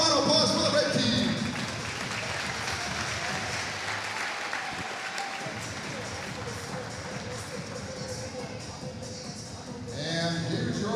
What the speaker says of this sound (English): How about a round of applause for the red team?